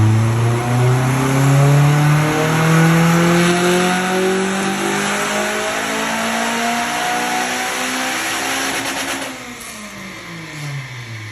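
A Honda Civic Type R EP3 strapped to a dyno screams through a power run, its engine note rising steadily in pitch to a loud peak before dropping away as the throttle closes, with no voices heard.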